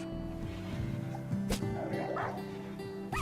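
A fox or dog barking in the video game Rimworld, a few short yips and a whimpering bark over a busy background of game sounds.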